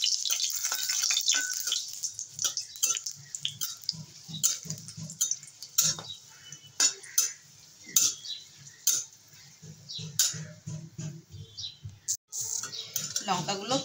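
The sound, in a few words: dried red chillies frying in hot mustard oil in a wok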